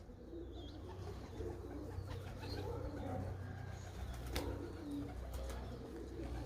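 Pigeons coo softly in low repeated calls close by, with occasional brief wing flaps and faint background noise.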